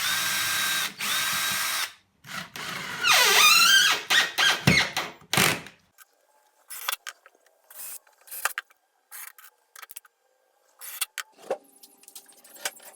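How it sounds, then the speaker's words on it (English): Power drill boring pilot holes for screws into MDF while fitting casters to a timber storage unit, heard as short bursts of whirring and grinding separated by pauses, loudest early then in brief scattered spurts. "drilling pilot holes for the screws so the MDF doesn't split"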